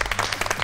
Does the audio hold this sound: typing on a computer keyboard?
no